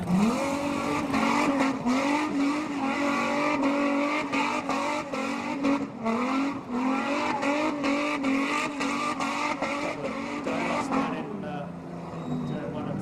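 Street stock race cars lap Laang Speedway in a sustained, loud engine roar that rises and falls as they pass, with a voice faintly underneath.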